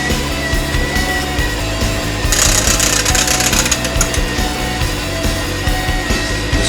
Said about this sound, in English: Let the mixer do the work.